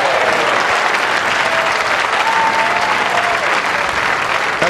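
A dense crowd applauds inside the Metrodome at a Weber Cup bowling event, a loud continuous wash of clapping that fills the whole moment without a break.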